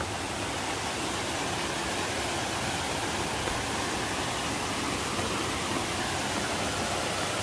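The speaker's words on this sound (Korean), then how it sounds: "와, 이런 폭포" A dense, unbroken roar of Seryeom Falls in South Korea fills the air, loud and close, with no other sounds.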